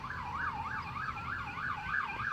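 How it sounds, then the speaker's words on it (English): Ambulance siren approaching, its quick rising-and-falling wail repeating evenly and growing fairly clear above a low rumble of road traffic, with no one talking. "Watch, it's gonna be an ambulance that's gonna go by."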